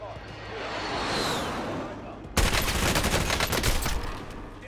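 Gunfire in Call of Duty: Warzone on Rebirth Island, a sudden loud burst of rapid shots midway that keeps crackling close by, with game ambience and voices talking over it.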